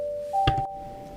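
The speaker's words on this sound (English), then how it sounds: "The bell will be rung for 5 minutes." Division bell in a legislative council chamber during a vote, a sustained electric ringing tone with a brief soft thump partway through, heard alone without talk.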